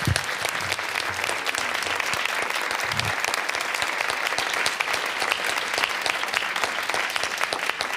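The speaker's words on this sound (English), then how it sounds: "Will everyone please join me in giving them a hearty round of applause?" Sustained, dense audience applause for a graduate student panel at a symposium, loud and steady throughout with no speech over it.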